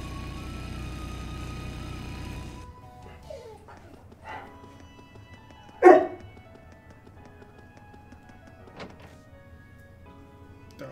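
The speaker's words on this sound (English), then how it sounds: "Dogs are pretty upset that I'm not playing with them." Dogs barking in the video game Trails of Cold Steel II, a few sharp isolated barks after a steady motorcycle-like drone cuts out, fairly close with quiet gaps between them.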